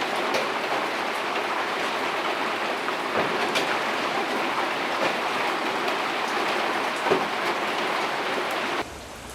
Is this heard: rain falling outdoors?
yes